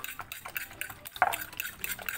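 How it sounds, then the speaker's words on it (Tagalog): Fork clacking rapidly against a bowl while whisking egg, a steady run of close, bright metallic taps with a slightly irregular rhythm and no voices. "haluin natin yung egg"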